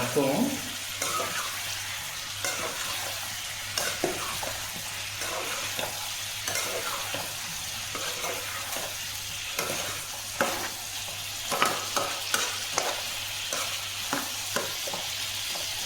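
Cauliflower and chana dal fry in a pan under a constant soft sizzle, stirred with repeated scraping strokes that come in uneven bursts, thickest near the end.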